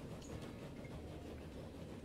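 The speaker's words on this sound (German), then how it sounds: "Da ist der von mir gekaufte Zug." A purchased train pulling four wagons rolls along in Transport Fever 2, giving a steady, dense low rumble of wheels and rail noise with no clear clicks or breaks.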